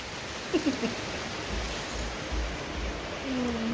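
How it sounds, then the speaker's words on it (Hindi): Steady rain pouring down during a wet-season day, a dense, constant hiss close by with a few faint background sounds and no talk. "ये बारिश रुकने का नाम ही नहीं ले रही है"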